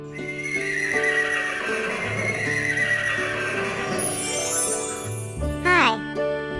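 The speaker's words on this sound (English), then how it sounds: "H-O-R-S-E, horse." Farm horse whinnying in a long, loud descending neigh with clip-clop hooves and a faint jingle, set against a bright children's backing tune.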